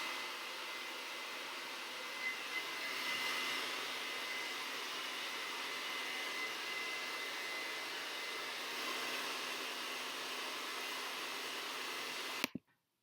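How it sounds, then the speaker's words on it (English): Hair dryer blowing steadily on hair, a loud continuous broadband whoosh holding unchanged for about twelve seconds before it cuts off abruptly at the end. "I just finished drying my hair"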